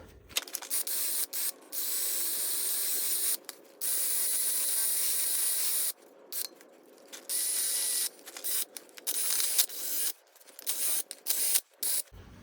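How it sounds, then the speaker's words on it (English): Wire brush scrubbing rust and grease off the brake mating surfaces of a Lincoln MKC/MKZ, heard as a close, loud, harsh hissing scrape in repeated strokes of a second or two, separated by short pauses. "we're going to use a wire brush and we're going to clean up all these mating surfaces"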